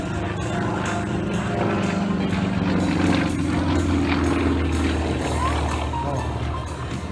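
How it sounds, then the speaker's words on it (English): An SU-29 two-seat aerobatic airplane performing air show maneuvers, its propeller engine giving a steady, loud drone that holds for the whole stretch with only slight swells in pitch. "The SU-29 is considered the best two-place aerobatic airplane for training in the world today."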